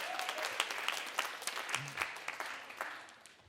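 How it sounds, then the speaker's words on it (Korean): Applause from a church youth worship congregation, steady clapping with scattered claps standing out, fairly quiet and fading toward the end. "잘했으면 오목사님에게 박수"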